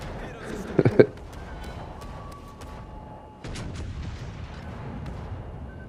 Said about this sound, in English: Secondaries on both sides going off.